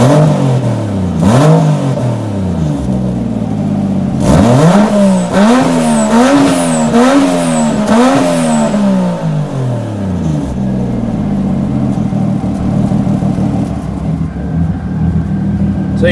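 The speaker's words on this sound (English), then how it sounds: "This exhaust needs to go, dude. Like, you can hear the exhaust leaks." A turbocharged car with a leaking exhaust at the turbo outlet is revved hard several times, a loud, raspy engine note rising and falling in repeated bursts before settling back to a rough idle.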